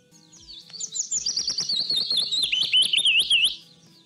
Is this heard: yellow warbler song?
yes